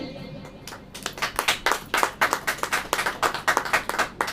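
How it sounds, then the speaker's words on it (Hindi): A congregation at a sermon claps steadily in a fast, even rhythm, many hands together, loud and close, continuing for several seconds. "सुन लीजिए, ताली बजाइए।"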